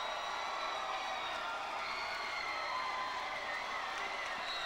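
Gymnasium crowd at a high school boys volleyball championship game cheers and applauds in a steady, dense roar of clapping and whoops, sustained throughout without letup.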